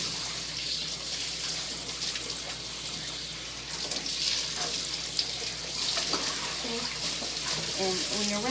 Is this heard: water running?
yes